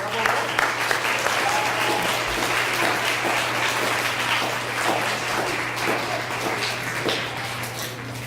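A crowd at an elementary school ceremony gives a sustained round of applause for a group of students, the clapping dense and even throughout, with a low steady hum beneath and faint voices mixed in.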